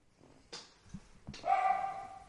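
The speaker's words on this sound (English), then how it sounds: "Apologies for my dog Finnegan." A dog barks in a room, two sharp barks about a second apart, the second trailing into a higher whining yelp, fairly close and with no talking.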